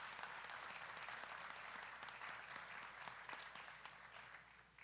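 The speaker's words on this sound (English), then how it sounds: "Go ahead and give them a round of applause." A crowd applauds at a grand closing bash performance, a dense wash of clapping that holds steady and fades slightly toward the end, heard faintly and at a distance.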